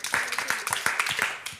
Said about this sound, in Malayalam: ഒരു കൈയടി കൊടുക്കാമോ?